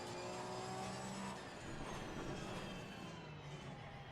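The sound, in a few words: Porsche race car engine in video game Assetto Corsa Competizione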